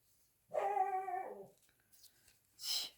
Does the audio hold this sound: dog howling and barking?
yes